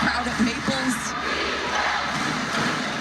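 Home crowd noise fills Maples Pavilion during a women's college basketball game between North Carolina and Stanford, a steady broad roar of spectators with a commentator talking over it.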